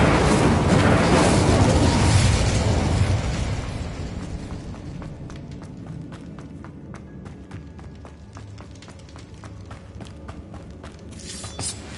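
Incendio fire spell cast in the Hogwarts Legacy video game: a loud, roaring burst of flame for the first few seconds, fading into quieter crackling with rapid clicks and taps.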